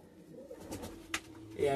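Madrasi high-flying pigeons give soft, brief coos in a loft, a few low murmuring calls close by with some background noise.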